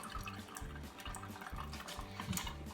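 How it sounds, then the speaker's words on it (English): Water runs steadily from a kitchen faucet turned on below the sink, a continuous close rush with faint dripping and splashing textures throughout. "I can figure out by just turning on the faucet down below"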